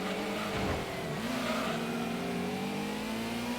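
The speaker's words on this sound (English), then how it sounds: "I'm gassing and holding brake at the same time." Gran Turismo car engine revving steadily under throttle while the brakes are held, a sustained droning mid-pitched roar with a slight rise in pitch, loud and continuous without speech.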